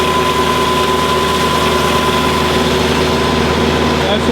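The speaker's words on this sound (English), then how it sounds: "That's the power takeoff, comes off the back of the tractor." A tractor's rear power takeoff drives a farm water pump moving about 110 gallons a minute, giving a loud, steady mechanical drone with a constant hum that runs unbroken throughout.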